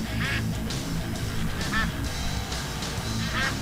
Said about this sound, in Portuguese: Ah, lá vem os patinhos.